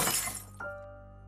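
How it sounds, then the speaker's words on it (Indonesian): A glass lamp shattering: a bright burst of breaking glass right at the start that fades into a short ringing tail within about a second, fairly close and alone. "Kemudian, lampu depan pecah dengan sendirinya."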